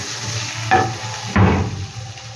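A fish curry with alu and salt is stir-fried in a pan, with two brief bursts of sizzling and scraping as the spoon turns the mixture, over a low steady hiss.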